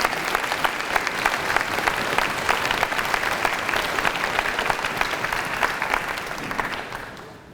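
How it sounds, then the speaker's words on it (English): Audience applause at a school arts night fills the room, dense and steady clapping from a large crowd that holds for several seconds before tapering off at the end. "Please give them a round of applause."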